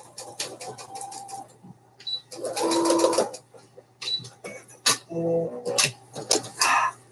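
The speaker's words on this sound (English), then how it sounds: "I'm just double back stitching across the ribbon part just for some extra stability." A sewing machine double back-stitches across a ribbon on a fabric Christmas advent calendar in short separate bursts of whirring and clicking, with quieter pauses between the runs and soft background sounds.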